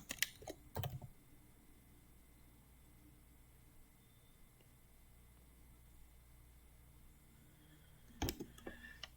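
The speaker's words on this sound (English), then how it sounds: "I'm just gonna try to type it." Short bursts of computer keyboard typing, a quick flurry of clicks at the start and another near the end, separated by a quiet hiss of room noise.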